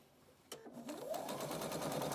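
A sewing machine starts up and runs a steady, rapid stitching whir up close, sewing the seam of a fabric scrub or welding cap using the presser foot edge as a guide.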